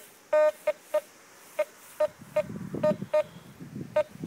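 Metal detector signal beeping during an outdoor detecting outing, sharp electronic tones repeating in irregular bursts, about nine short beeps, close and clear, with rustling and digging noise underneath in the second half.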